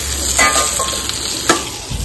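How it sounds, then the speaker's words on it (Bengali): Okra (bhindi) frying in a pan, a steady close sizzle with a few brief scraping stirs, no voices. "এই যে ভিন্ডি বসিয়ে দিয়েছি"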